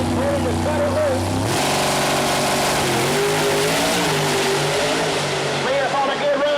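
A nitrous-fed Pro Mod door-slammer drag car launches hard down the Mooresville Dragway strip, its engine snarling loud and rising through rapid gear changes as it pulls away, with a track announcer talking over it.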